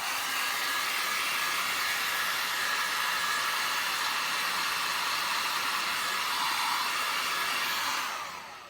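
A hair dryer heats wax into waxed canvas with a steady, loud whooshing blow that holds constant for about eight seconds before tapering off at the end.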